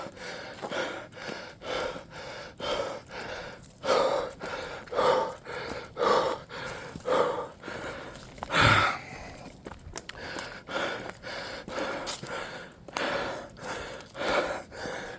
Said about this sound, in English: breathing so hard I can already feel I breathe the back of my throat raw